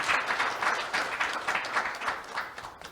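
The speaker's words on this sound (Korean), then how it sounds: "박수로 맞이해 주시기 바랍니다" An audience at an AI-in-education talk concert applauds to welcome guests, with brief moderate clapping from a crowd that swells in gentle pulses and then fades toward the end.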